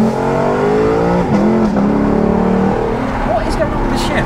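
Lexus LC500 accelerating hard, its engine revving up through gear shifts with a brief double shift as traction control intervenes, loud and close inside the cabin while people talk excitedly over it.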